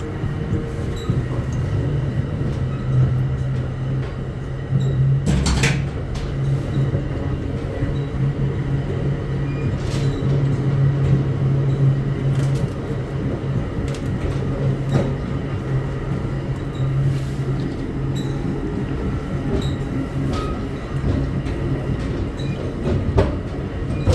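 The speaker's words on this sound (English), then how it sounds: "the train that we're on, by the way, is a Bombardier multi-level" A Bombardier 3000 series multi-level commuter train rolls steadily along in winter with a continuous low rumble and faint rhythmic clatter of wheels on track, heard from inside a carriage.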